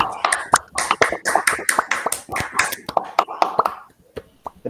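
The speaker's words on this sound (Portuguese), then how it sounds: "vamos aplaudir enquanto tá gravando" Participants in an online meeting clap over a call connection, sharp uneven claps in a busy cluster that thin out toward the end, with soft voices mixed in.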